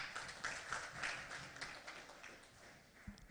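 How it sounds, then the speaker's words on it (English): Members at a golf club committee election meeting clap for a candidate. The scattered clapping from a modest group is faint and distant, with individual claps distinguishable, and it thins out toward the end. "Clap for him."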